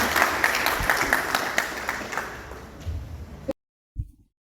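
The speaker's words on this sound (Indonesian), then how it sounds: "Beri tepuk tangan untuk kita semua yang dapat hadir pada siang hari ini." Applause from a school audience at a student council debate fills the hall, thinning over a few seconds before stopping abruptly, followed by a brief thump.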